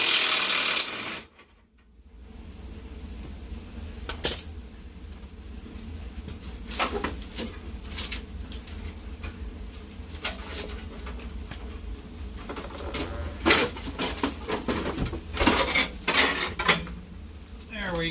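Bolts are worked off the pan of a John Deere Ice Racer snowmobile, producing intermittent metallic clinks, taps and rattles of tools and parts close by, with brief bursts of scraping and a quiet background hum.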